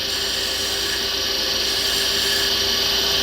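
A wood lathe spins while a honey dipper is being shaped, giving a steady, dense whir with a faint constant tone throughout, close and unbroken with no talking.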